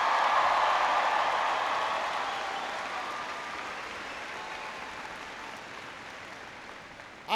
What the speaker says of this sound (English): Please give Daniel a big round of applause for that great introduction.